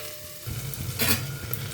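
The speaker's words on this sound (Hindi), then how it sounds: "इसमें हम प्याज डाल देंगे। प्याज डालेंगे और इसको चला देंगे" Onions with garlic frying in a pan, a sudden burst of sizzling as they go in, then crackling hiss and a scraping stir close by.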